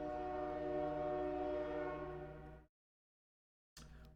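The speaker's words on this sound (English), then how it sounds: "the train throw its little hissy fit here for a second, huh?" A passing train sounds its horn loudly in a long, sustained, harmonic blast that cuts off abruptly, followed by a short gap of silence and then another brief burst of the horn.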